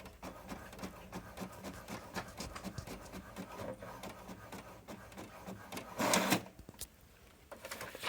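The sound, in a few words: printer printing a page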